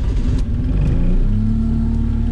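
A 1998 Jeep Cherokee XJ engine cranking over and catching in a -16F cold start, a loud close rumble that shifts and steadies into a rough idle drone.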